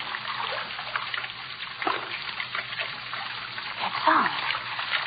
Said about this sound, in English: Sound of water so loud.